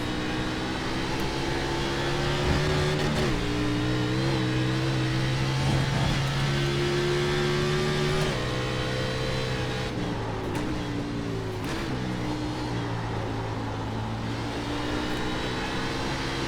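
A NASCAR Xfinity race car in iRacing, pushed hard around Watkins Glen, roars steadily at high revs, its engine note rising and dipping through gear changes and braking for about sixteen seconds, loud and continuous.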